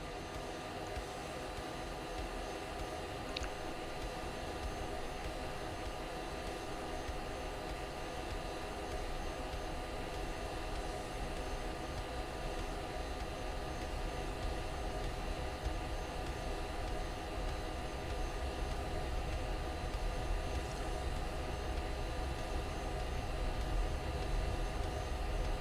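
A-10 Warthog jet engines at full throttle for takeoff in the Falcon BMS flight simulator, a steady, loud broadband roar with a constant whine that holds evenly throughout without talk.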